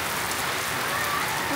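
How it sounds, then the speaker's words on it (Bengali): Rain falls steadily and fairly hard, a dense, even patter on surfaces with no voices over it. "বৃষ্টির গতিবেগ কিন্তু ভালোই।"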